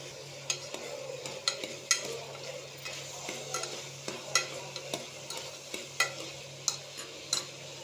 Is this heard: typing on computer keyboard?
no